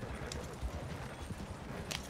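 Horse hooves clip-clopping in a Wild West roleplay video game, a few soft, faint hoof steps at an uneven pace with no voices.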